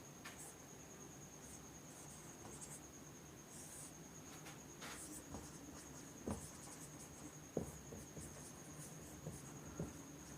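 Chalk or marker taps and scratches faintly on a board during a class 9 chemistry lesson, sparse short strokes over a quiet room with a steady insect-like hum in the background.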